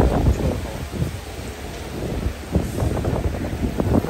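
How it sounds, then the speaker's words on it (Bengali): Heavy rain pours steadily in Dublin, Ireland, with gusty wind buffeting the microphone, a dense, rushing wash of noise with no voices. "প্রচণ্ড বেগে কিন্তু বৃষ্টি হচ্ছে।"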